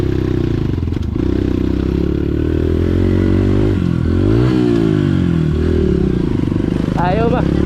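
A trail motorcycle's engine drones loudly and close, its pitch rising and falling as it revs, with clattering and a brief voice near the end.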